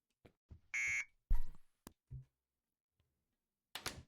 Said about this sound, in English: The alarm makes a noise, it alerts guards, and it can also trigger sound detectors